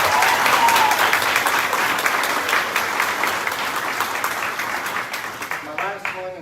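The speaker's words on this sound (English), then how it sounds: "If we can give her a round of applause." Sustained applause from an audience at a ribbon-cutting ceremony for a middle school, loud and dense at first and thinning gradually toward the end, with a voice coming in under the last claps.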